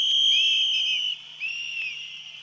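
A shrill, high whistle is blown in mock protest during a Thai political satire verse performance, sounding as one long steady blast followed by a short break and a second, slightly quieter blast.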